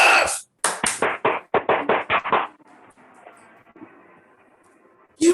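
Sharp, loud handclaps strike in a quick, uneven burst of about a dozen claps, then give way to faint quiet before one last clap at the end.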